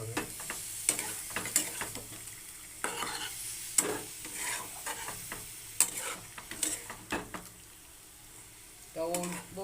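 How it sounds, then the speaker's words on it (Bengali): Chicken being sautéed in a pan with spice water added little by little, giving a quiet sizzle broken by repeated scraping and stirring strokes, with someone talking over it. "অল্প অল্প করে দেবো আর কষাবো, তাতে চিকেনটা খুব ভালো কষবেও"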